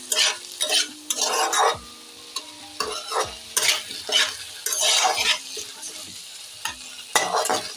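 A spatula scrapes and stirs a mixed fruit chutney with raisins in a hot pan, giving repeated bursts of scraping and clinking against the metal over a soft, steady sizzle, close and fairly loud, with no talking.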